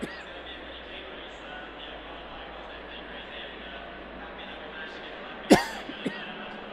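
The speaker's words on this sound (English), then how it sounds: "I'm so sorry, guys, about the coughing." A single sharp cough bursts out close to the microphone after a stretch of quiet room noise, followed by a couple of faint smaller sounds.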